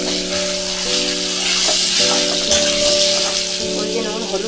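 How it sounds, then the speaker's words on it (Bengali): Sliced pointed gourd (potol) frying in hot oil left over from frying eggs, seasoned with salt and turmeric, giving a steady close hiss with soft stirring clatter and a tonal hum running underneath. "পটলগুলো একটু ভেজে নেব।"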